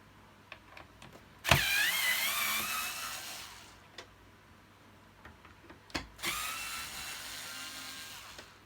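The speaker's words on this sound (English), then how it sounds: "Very easy to remove these back wheels with the right attachment." Power screwdriver removing screws from the back wheels of an Electrolux vacuum cleaner, two loud whirring bursts with small clicks and handling knocks around them, close by.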